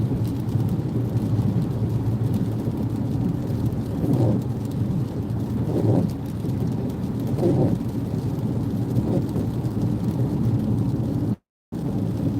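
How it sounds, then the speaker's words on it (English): Steady rain falling while driving near Lake Tahoe, a dense continuous hiss with a few soft low rumbles, loud and close with no talking. "And the rain is starting"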